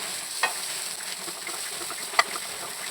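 Grated coconut roasts in a pan for a Kerala varutharacha chicken curry, giving a faint, steady sizzle and soft crackle with a couple of brief sharp ticks, likely from stirring, and no talk.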